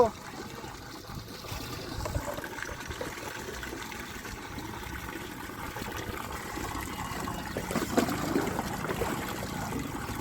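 Water runs steadily from a tap or hose into a container, a continuous splashing rush with faint voices in the background.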